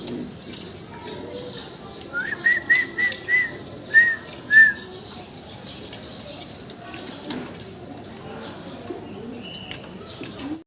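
Fancy pigeons coo in a short run of soft, rounded calls, a few close together, over a quiet background with faint chirps.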